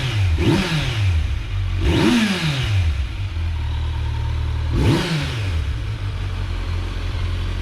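A Kawasaki Z900 with an inline-four engine and stock exhaust revs three times from idle, each blip rising sharply and falling away, with a steady, loud idle between the revs.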